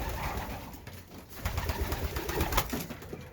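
Racing pigeons coo in soft, throaty, repeated pulses close by, with a low rumbling rhythm and some light rustling around them.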